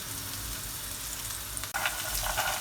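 Tomatoes and garlic sautéing in hot olive oil in a pan, a steady close sizzle and crackle with a brief stir or clatter partway through, no talking.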